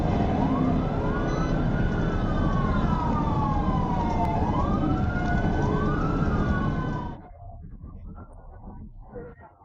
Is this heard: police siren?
yes